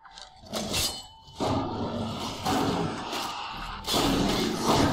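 The dragon Mirmulnir in Skyrim gives a series of loud, growling roars mixed with heavy thuds, arriving in about four surging bursts over a few seconds, close and powerful.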